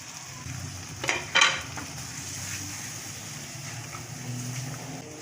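Salsa and vegetables stirred in a pan, a low steady sizzle with a couple of brief louder scraping stirs near the start, close and moderate in level.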